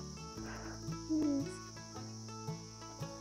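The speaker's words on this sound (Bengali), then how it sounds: "পুরো ঝিঝি পোকা ডাকছে" Crickets chirp on a quiet Darjeeling roadside as a steady high insect drone, with a few faint tonal sounds in the background and nobody speaking.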